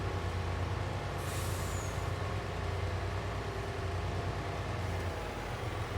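A truck in a farming simulator on a Canadian cattle farm slows at an unloading trigger, giving a steady low engine rumble with a brief hiss of air brakes near the start and no talk.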